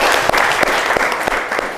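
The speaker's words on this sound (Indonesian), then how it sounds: "Tepuk tangan dulu untuk kelompok ini." Classroom applause for a student group, a dense steady clapping from a room full of people, loud and close, lasting the whole moment.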